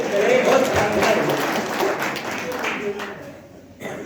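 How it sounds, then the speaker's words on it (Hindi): Audience applause from a crowd at a live event, steady dense clapping that holds for a few seconds, then thins and fades near the end. "भाई बहुत शानदार, एक बार जोरदार तालियां बजाएं।"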